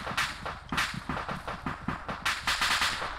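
Rapid gunfire crackles in a forest battle, a quick string of sharp shots at an uneven, fast rhythm, with a denser burst near the end and no rifle grenade blast clearly standing out.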